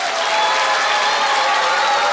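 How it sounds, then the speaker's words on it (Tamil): An audience at a children's dance competition show claps loudly and continuously, a dense, steady wash of applause with no pauses. "அவங்களுக்கு ஒரு பலத்தை கைத்தட்டல் கொடுத்துருங்க"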